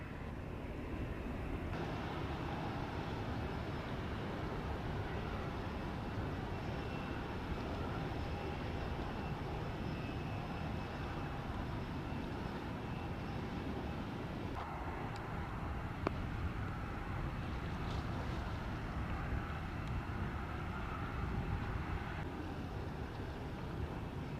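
A jet airliner takes off from runway 25 at a Jamaican airport, heard from a distance as a steady, broad engine roar. The noise holds at a constant level for over twenty seconds, with no talk.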